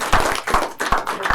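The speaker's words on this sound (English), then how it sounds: "You can give him a round of applause." A brief burst of clapping and applause at a school board meeting, welcoming a track and field and cross-country coach; several pulses of hand claps roll through in quick succession at moderate volume.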